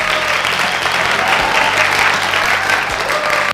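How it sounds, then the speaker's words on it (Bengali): A studio audience bursts into sustained applause during a blindfolded challenge game show, steady dense clapping filling the whole stretch at close range with no talk over it. "সবাই হাততালি দিয়ে দেন"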